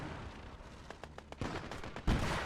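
A Matilda tank firing during a tank battle in the WWII game Gates of Hell: Ostfront, with distant muffled booms and sharp cracks, then a louder heavy blast near the end, over a low rumbling background.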